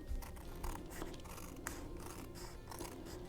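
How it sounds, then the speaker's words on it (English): Scissors snip along the edges of a handmade stamped greeting card, trimming close to the fold, producing a quiet, continuous run of small crunchy cuts and scrapes with no talk. "I'm just going to trim the edges with my scissors"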